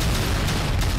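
A big explosion from a video plays as a dense, loud boom that fills the entire brief moment without pause.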